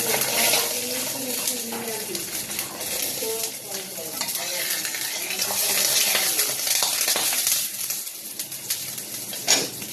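Aloo paratha, a potato-stuffed flatbread, cooking in a pan with a steady sizzle and frying crackle that carries through the whole stretch, plus some scraping and clatter, while someone talks intermittently over it.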